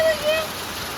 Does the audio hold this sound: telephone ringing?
no